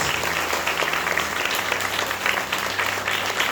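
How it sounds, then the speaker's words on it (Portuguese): An audience at a seminar session gives warm applause, a dense stream of many hands clapping at moderate level with a low organ-like hum under it. "Dê uma salva de palmas para Jesus."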